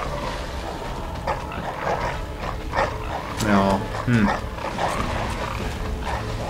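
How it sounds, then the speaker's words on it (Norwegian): Dogs barking and yipping in the video game Bloodborne, several short barks and a whimpering howl rising over a constant game soundscape while a person talks over it. "Ja, masse hunder."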